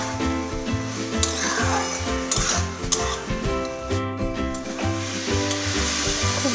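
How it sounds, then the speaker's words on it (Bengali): Fried prawns are stirred with bottle gourd in a pan for a Bengali lau chingri dish, giving a steady, loud sizzle with scraping and clattering stir strokes throughout. "এবার ভালো করে নাড়াচাড়া করে লাউয়ের সঙ্গে চিংড়িটাকে মাখিয়ে নেব।"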